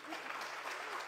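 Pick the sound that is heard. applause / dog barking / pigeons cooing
applause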